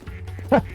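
A duck quacks in the Project P.I.T.T. factory game, a short nasal call near the end of a brief moment under low background hum.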